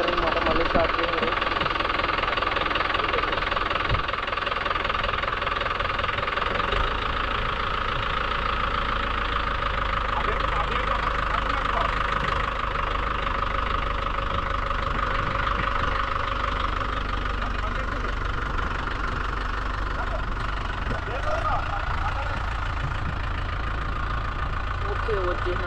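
A Mahindra Yuvo Tech Plus 575 tractor with cage wheels, stuck in mud, runs after being restarted, a steady loud diesel drone with knocking throughout.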